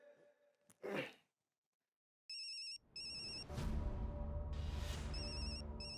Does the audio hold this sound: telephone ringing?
yes